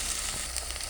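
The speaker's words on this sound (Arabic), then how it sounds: "عصجنا اللحمه بتاعتنا اهو" Minced meat sizzling and frying in a pan, a steady close crackle and hiss lasting about a second with no talk.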